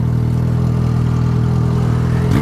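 A Yamaha XJ6 motorcycle with a straight-pipe exhaust, idling loud and close with a rough, deep, steady rumble that rises sharply in pitch as it revs at the very end.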